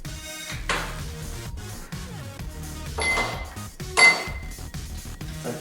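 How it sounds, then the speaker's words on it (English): Ice cubes dropped into a glass for a gin and tonic, several separate clinks and clatters at irregular intervals with one louder knock near the end, close and clear with no talk. "fill up your glass full of ice."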